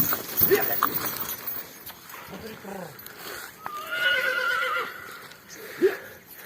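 A Percheron stallion in training gives a neigh partway through, heard among people talking and shouting outdoors, with a few hoof clops.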